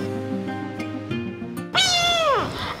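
A Persian cat gives one loud, drawn-out meow close by, rising and then sliding down in pitch, after a stretch of quieter background sound.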